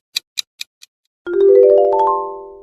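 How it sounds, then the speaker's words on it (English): Hasbro logo jingle: four short bright taps, a brief pause, then a rising run of sustained synth tones climbing upward and holding, loud and alone. "Yes, that is Hasbro."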